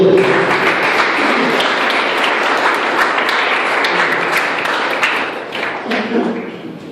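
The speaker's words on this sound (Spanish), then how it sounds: "Démosle un aplauso a Dios." Applause fills a church service as the congregation claps for God, a dense steady wash of clapping that thins toward the end, with voices mixed in underneath.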